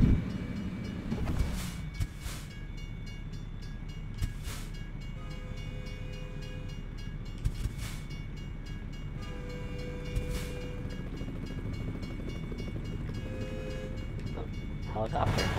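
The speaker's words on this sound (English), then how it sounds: "Train." A train rumbles past steadily in American Truck Simulator, a low continuous roll with a few sharp horn-like tonal blasts and clanks over it, while someone talks now and then.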